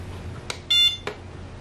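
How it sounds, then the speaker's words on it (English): A Samsung UV sanitizer with wireless charging gives a single bright electronic beep as its sanitize cycle starts, framed by soft clicks of the lid and button over a low background hum. "We get the one beep to initiate it"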